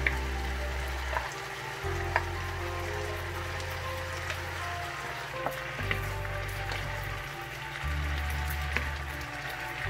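Tofu stir-fried with sauce in a pan, a soft continuous sizzle with scattered crackles and occasional scraping clicks, with a low hum underneath.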